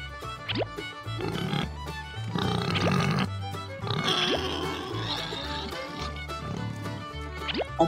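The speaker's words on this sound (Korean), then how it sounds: "귀여운 돼지 친구들이에요." Pigs on a small farm grunt and oink repeatedly, a mix of low snorts and short squeals at close range over barn noise, with no talking.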